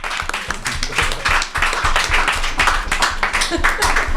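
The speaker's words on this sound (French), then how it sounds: "Moi je propose qu'on l'applaudisse un petit peu plus." Audience clapping fills a French late-night live show, a dense, steady round of applause that swells and holds throughout with scattered cheers and voices mixed in.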